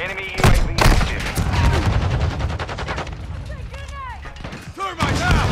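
Rapid bursts of automatic gunfire and single shots crack loudly in Call of Duty on the cramped Shipment map, overlapping with game announcer callouts and chirping interface sounds.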